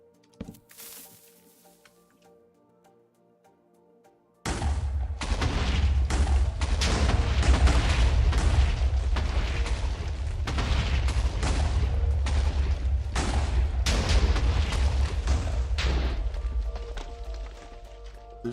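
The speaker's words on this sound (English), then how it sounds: "There's just something so relaxing about watching things explode." Explosions in the video game Minecraft: after a few quiet seconds, a loud rumbling burst of blasts kicks in and keeps going for over ten seconds as repeated deep booms overlapping one another.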